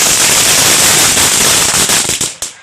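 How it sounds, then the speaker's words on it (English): Gigantic firecrackers exploding at a Fourth of July fireworks finale, a loud, dense rapid crackle of bangs that sounds very near, then thins into a few separate sharp pops before cutting off. "Four gigantic firecrackers."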